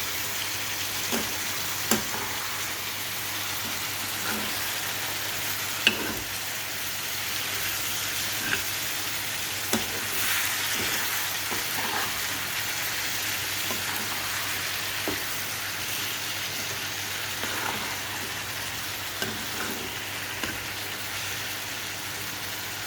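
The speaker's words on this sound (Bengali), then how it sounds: "এবার আমি ভালো করে এটা নেড়ে দিচ্ছি।" Spiced jackfruit curry being stirred in a pan with a splash of water, a steady close sizzle and frying hiss running throughout with soft scraping stirs at irregular intervals, no voices.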